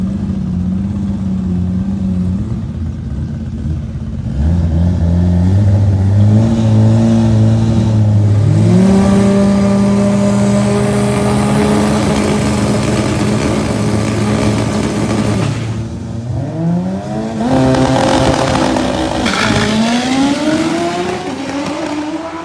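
Pro Mod drag racing cars at a Bradenton World Series event roar loudly, revving hard and accelerating with rising engine pitch through several gear changes, with a second surge of revving late on.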